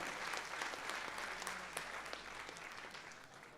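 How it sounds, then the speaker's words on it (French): A crowd at a Malian sports awards evening applauds a team captain, dense even clapping heard faint and somewhat distant, fading gently by the end. "On applaudit très fort Amchetou Maïga qui est avec nous ce soir."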